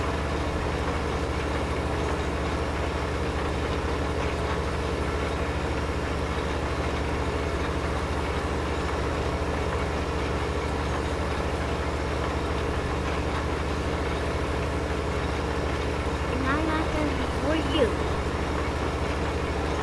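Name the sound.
tractor engine running, from video game Farming Simulator 15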